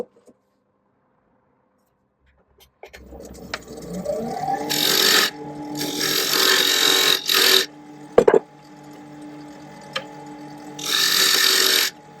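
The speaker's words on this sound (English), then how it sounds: "we'll turn the mortise in here" A wooden sound horn is turned on a lathe to cut a mortise, a close rasping scrape in several bursts over the hum of the spinning machine, with brief gaps between cuts.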